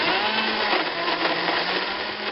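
A blender whirs continuously, loud and close, as it purees raw tomato sauce, a dense steady grinding roar with slight wavering and no voices.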